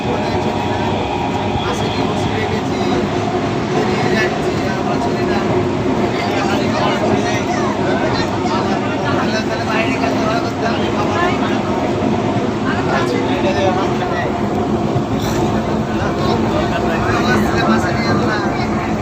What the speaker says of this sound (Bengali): এই ট্রেনে করে যাচ্ছি আমরা ইলেকট্রিক ট্রেন